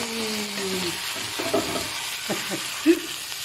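Pork sautés with garlic in a honeycomb wok for adobong baboy: a faint, steady sizzle with a few scraping stirs and clinks of the utensil against the pan.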